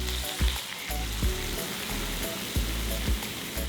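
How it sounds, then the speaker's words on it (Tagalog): Pork belly sizzles steadily in a pan as it is sautéed with garlic and onion, a continuous close frying hiss broken by a few soft knocks of a spatula, with no talking. "Ginigisa ko lang to hanggang sa maging light brown na yung kulay ng outer part."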